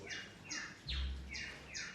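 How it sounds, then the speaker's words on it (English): Animatronic parrots singing in the Tiki Room show at Magic Kingdom, heard as a string of bright, sweeping whistled chirps repeating about every half second, with a low rumble midway through. "Then there was the Tiki Room with singing parrots."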